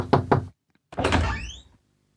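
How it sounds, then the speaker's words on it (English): Two quick, solid knocks on a flat's door are followed after a brief pause by a longer creaking, scraping sound of the door being opened. Then comes a short silence and a final soft bump. "She ran upstairs and knocked on the door."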